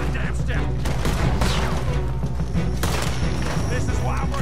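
Dense gunfire in the video game Red Dead Redemption 2, overlapping shots and booms at close range under shouted voices.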